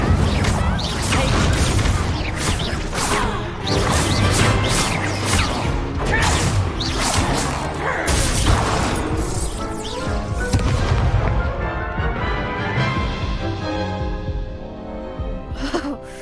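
Incendio fire spell cast in the Hogwarts Legacy video game, dense booming and crashing game effects with bursts of impact that keep going before easing off near the end.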